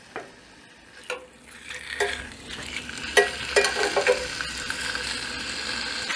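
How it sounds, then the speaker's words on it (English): Chicken sizzles in a cast iron pan over a gas stove outdoors. The frying hiss builds up steadily, dotted with sharp clicks and clinks of metal against the pan, close and fairly loud. "And there we go. I already hear it sizzling."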